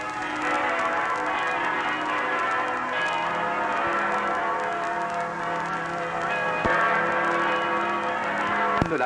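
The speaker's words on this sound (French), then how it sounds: "au son des cloches de Notre-Dame" The church bells of Notre-Dame in Montreal ring out in a dense, overlapping peal, their metallic tones layered together and sustained at moderate loudness throughout, recorded in 1957.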